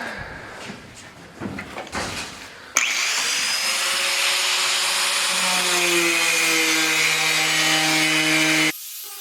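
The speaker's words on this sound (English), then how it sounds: "cutting the hole in the hood" A power tool cuts into a car's metal hood with a loud, sustained high whine lasting several seconds, then stops abruptly, after some brief handling clatter at the start.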